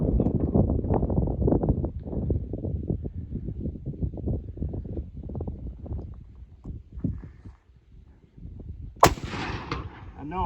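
An American-made Enfield rifle fires a single loud, sharp shot at an outdoor range. Low rumbling comes before it, and the shot rings out near the end of the clip.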